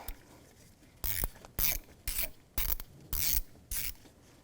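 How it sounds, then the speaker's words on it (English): A hand ratchet loosening a T25 Torx mounting bolt on a rubber mount by the turbo air tube of a 2001-2007 Volvo V70, six short rasping clicking bursts at a steady pace, close by in a quiet garage. "So now I'm going to start removing the turbo air tube, and the mounting bolt is a T25."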